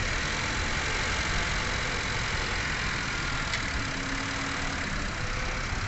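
A Honda City car engine idles steadily and evenly, a constant low mechanical hum with slight knocking texture, close by and alone with no voices.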